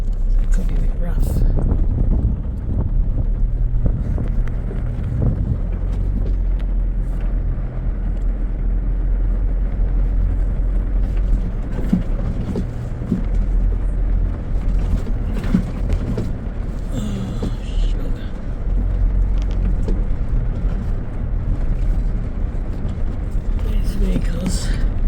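A 4WD vehicle grinds up a rough, rocky riverbed track in the Ruby Gap Nature Reserve, its engine a steady loud low rumble with scattered knocks and jolts, and a person talks over it throughout.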